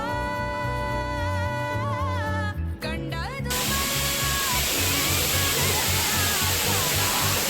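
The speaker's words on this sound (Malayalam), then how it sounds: "ഇവിടെ എവിടെയാണ് വാട്ടർഫോൾസ് ഉള്ളത്. സൗണ്ട് കേൾക്കാം." Areekal waterfall in a forest near Kochi: after a few seconds of voices, a loud, continuous broadband roar of rushing water takes over and fills the rest of the clip.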